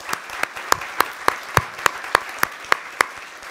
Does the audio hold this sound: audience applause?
yes